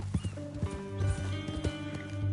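A horse's hooves clip-clop in a steady walking rhythm in Red Dead Redemption 2, close and moderately loud, with tack jingling and a soft snort, over a low ambient drone.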